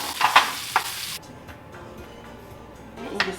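Beef shank searing in a hot pan, with a few sharp clattering hits early on and then a steady, soft sizzle underneath.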